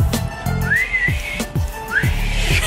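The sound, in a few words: person whistling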